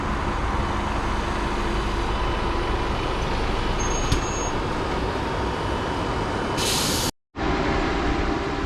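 A Gemini 3 bus, registration LF18 AYE, idles at traffic lights near Staines Bus Station, a steady loud engine rumble broken by a brief high hiss and a short dropout near the end.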